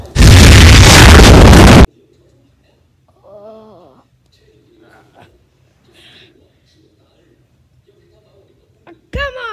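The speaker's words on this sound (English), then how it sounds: "This is nuclear bomb test one." Nuclear bomb test explosion in the game Agent T-Pose 2: one loud, sharp blast lasting about two seconds at the start, followed by quiet stretches with brief speech.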